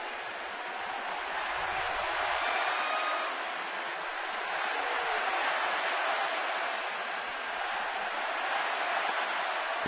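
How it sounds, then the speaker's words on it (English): Red Sox fans in the crowd at a 2010 Boston at San Francisco baseball game, a steady broad crowd murmur and scattered applause filling the stadium at moderate level throughout. "You can hear some Red Sox fans in the crowd now."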